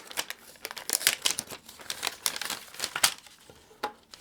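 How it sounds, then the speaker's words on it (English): Recyclable paper packaging for a coral phone case crinkles and rustles as it is handled, a close run of irregular dry crackles and scrapes. "Fancy recyclable paper here."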